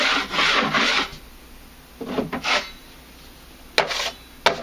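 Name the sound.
12-inch drywall knife scraping high spots off drywall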